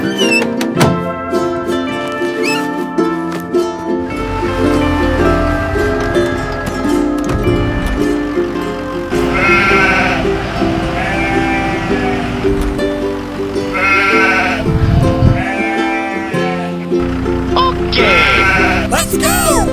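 Cartoon sheep bleat repeatedly over busy background music and sound effects, with the calls standing out clearly at intervals through the scene.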